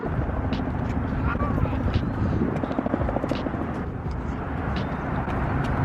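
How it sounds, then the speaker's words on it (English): A helicopter's rumbling rotor drones steadily in the distance while people talk and move around nearby. "Do you see the big helicopter?"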